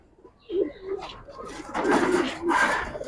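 Giribaz pigeons coo steadily in a loft among birds of an old bloodline, the murmuring close and fairly loud, building into a fuller chorus after the first half second.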